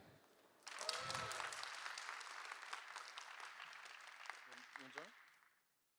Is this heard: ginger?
no